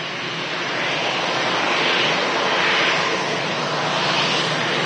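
An easyJet Airbus A320 airliner at Manchester Airport gives a steady, loud, broadband jet roar that swells slightly and then holds, with no talk over it.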